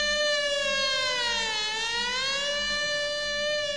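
A fire engine siren wails in a steady, loud, continuous tone that dips and rises in a slow sweep, sounding alone without any talk.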